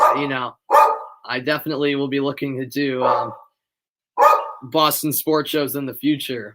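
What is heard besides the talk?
dog barking in the background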